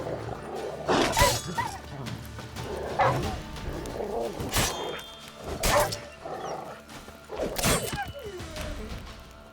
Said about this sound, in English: Man, dogs.